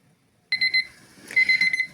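A bright electronic kitchen timer beeps in two short bursts of rapid repeated tones, close and clear after a moment of near silence.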